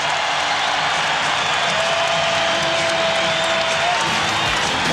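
Basketball crowd roaring at the Rose Garden during a 2000 playoff game between Minnesota and Portland, a dense, steady wall of cheering and applause that holds loud from start to finish.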